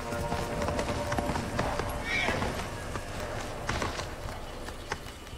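A horse in the game Ghost of Tsushima gallops with rapid clip-clopping hooves and lets out a sharp whinny, heard alongside ambient game sound and someone talking over it.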